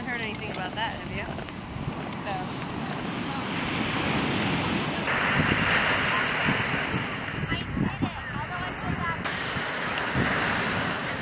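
Ocean surf washes onto a beach by the tidepools, a continuous loud rush of breaking waves with wind buffeting the microphone, and people talking over it.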